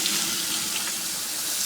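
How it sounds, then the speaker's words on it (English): Tap water pours in a steady, hissing stream into a small plastic water bottle, close and continuous without a break. "So just fill up your little water bottle."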